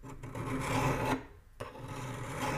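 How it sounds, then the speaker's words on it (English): A hand file rasps steadily across annealed steel during knife making, with continuous scraping strokes, a brief pause, then a sharp restart of the filing, close and fairly loud. "if you compare the sound and the feel to a piece of annealed steel"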